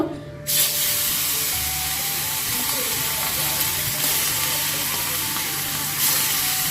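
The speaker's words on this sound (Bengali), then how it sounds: "আর এখন মাছগুলি ভাজা করে নিই আগে" Fish rubbed with turmeric and salt frying in hot oil, a continuous loud sizzle and spitting hiss that holds steady throughout with faint kitchen sounds beneath and no talking.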